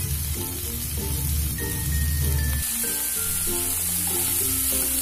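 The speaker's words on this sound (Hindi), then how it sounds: "फिर हमें इसे अच्छी तरह से फ्राई करना है, थोड़ा हाई में फ्लेम को रख के इसको हमें फ्राई करना है।" Vegetable hakka noodles frying on a high flame, a steady close sizzle with occasional stirring clinks and scraping through the whole stretch, no talk.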